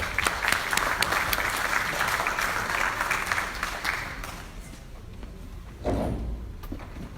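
At a university honorary doctorate ceremony, the audience gives guitarist Brani Pérez a round of applause that is moderately loud at first and then fades, with a few thumps and shuffles near the end.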